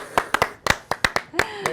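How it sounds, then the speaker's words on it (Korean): A small studio audience on a talk show claps for a police chief, a sparse, irregular run of close, sharp handclaps from only a few hands. "박수 한번 보내주십시오"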